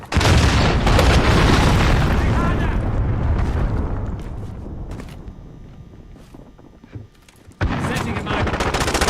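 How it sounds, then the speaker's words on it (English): A missile explosion in a video game hits as a loud, sustained burst of blasts and rumbling debris, fading out over several seconds before another loud boom cuts in near the end. "missile incoming"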